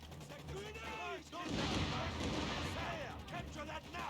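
Grenade blasts and gunfire in the WWII strategy game Company of Heroes 3, with a heavy burst of explosive noise midway amid continuous battle din and crackling shots, soldier voices talking over the combat.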